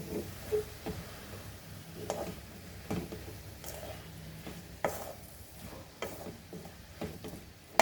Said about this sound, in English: So mix this all nicely with the sauces.